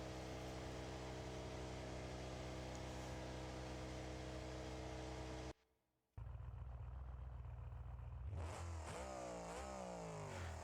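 Stock engine sound of a monster truck in the BeamNG.Drive driving game: a steady droning idle, a sudden brief cutout, then rising and falling revs as the throttle is blipped, loud and close.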